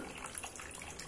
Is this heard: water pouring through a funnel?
yes